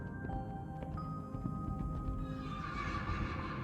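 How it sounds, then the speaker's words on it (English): A wild mustang stallion galloping close by with neighs and whinnies over a steady rumble of hooves, sustained for a few seconds. "A stallion gallops so close,"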